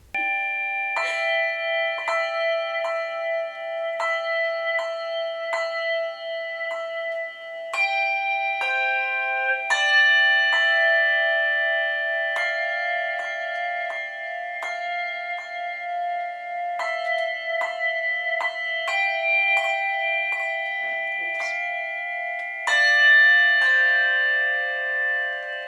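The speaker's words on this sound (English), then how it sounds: "Here's a VIP, limited edition, private bells concert" A teacher plays a melody on bells, producing clear, ringing struck tones one after another at a steady, unhurried pace, each note sustaining briefly, in a quiet room with no talking.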